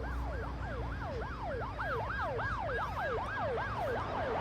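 Police car sirens wail in a rapid, repeating rise-and-fall pattern, steady and fairly distant, with no voices over them.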